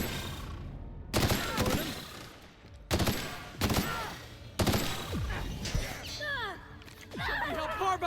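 Bursts of gunfire from the Jackass gun in The Outer Worlds, three or four loud volleys separated by short pauses, with ringing tails and game effects between shots.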